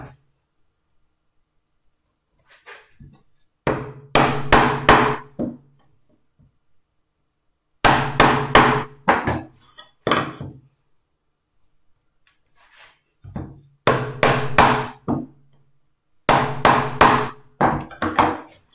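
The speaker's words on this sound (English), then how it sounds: "any more than 3 or 4 taps of the chisel at that point in the operation" A chisel tapped into wood while making a birdbox, struck in four separate bursts of several sharp, close, loud knocks each, with short pauses between the bursts.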